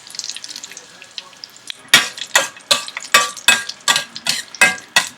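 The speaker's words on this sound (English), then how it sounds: "My mustard seeds started spluttering. I'm adding the red chili." Mustard seeds and chopped red chilies fry in hot oil in a pan for amaranth buttermilk curry. Rhythmic stirring scrapes pair with bursts of crackling sizzle, about two per second, close and fairly loud after a quieter start.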